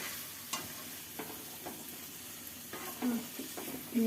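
Soft, steady sizzle of gobi manchurian being sautéed in a pan, with occasional scrapes and clicks from stirring, fairly quiet and close.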